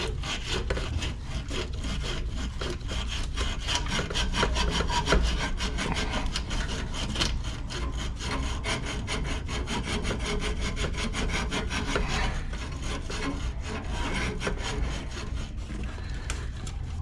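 Steady, continuous rubbing and scraping to polish and shine metal inside a walk-in refrigeration box, a dense broadband friction noise lasting throughout at even loudness with rapid back-and-forth strokes and no talking.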